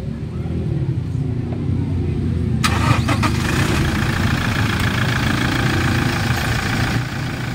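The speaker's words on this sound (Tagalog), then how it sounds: "So ibang-iba na po ang tunog ng kanyang makina" A repaired Toyota Innova 2.8 engine turns over and settles into a steady, loud low idle, with a brief cranking burst near the start and voices faintly over the running motor.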